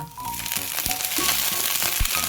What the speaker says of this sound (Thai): หลังจากนั้นเราก็จะใส่ผักลงไปค่ะ